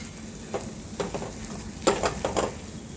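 A spoon stirs sweet rava sheera in a pan, a series of soft scraping strokes over a gentle sizzle, close and fairly quiet, without talking.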